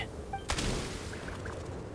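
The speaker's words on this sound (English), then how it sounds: "There's the gunshot." A single sharp gunshot cracks out in the video game Genshin Impact, a loud, brief burst followed by a lingering rumble and faint game ambience.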